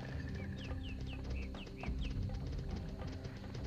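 Birdsong on a video game soundtrack for Summoner: a few short chirping phrases repeating over a dense, steady background of music and ambience, moderately quiet throughout.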